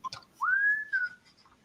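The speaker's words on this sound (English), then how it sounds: "That and Andy Griffith, right? The whistling." A person whistles a short fragment of The Andy Griffith Show theme: a clear, sustained whistled note that rises, holds and falls, then a faint trailing tone, heard alone.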